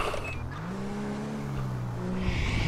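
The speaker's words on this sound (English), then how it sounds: "we got a supercar over here" A supercar engine, likely in a video game, revs and drives with a steady droning tone that climbs and shifts pitch, moderately loud throughout with no speech.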